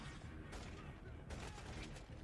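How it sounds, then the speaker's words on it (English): Gunfire in the video game InFAMOUS: First Light crackles as dense, rapid bursts of shots from shooting enemies, heard throughout with a voice speaking over the noisy mix. "I hear people shooting."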